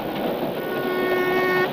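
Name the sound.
cartoon train speeding along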